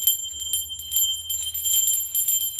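A mindfulness bell rung for meditation, bright sustained metallic tones ringing close and clear, with repeated soft strikes keeping the shimmer going and no voices.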